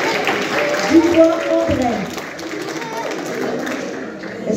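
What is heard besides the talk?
audience applauding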